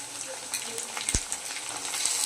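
Peas and potatoes fry in a pan, a steady soft sizzle with faint stirring scrapes and a brief low knock partway through, with no talk.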